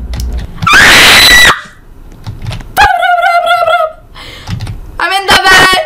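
Shrill, piercing screams from a child in a horror video game, in three loud bursts separated by quieter thuds and room noise, the later screams wavering and overlapping.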